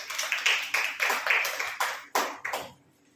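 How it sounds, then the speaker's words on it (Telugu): A congregation clapping during a Wednesday church worship service: several bursts of hand claps in an irregular rhythm, each fading quickly, loud and close, then dying away into quiet near the end. "చప్పట్లు కొట్టి దేవుని మహిమపరుస్తాం."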